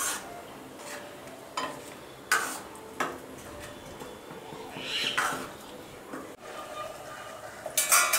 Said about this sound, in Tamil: இது ஒரு 5 நிமிஷம் நல்லா கொதிக்க வைக்கலாம்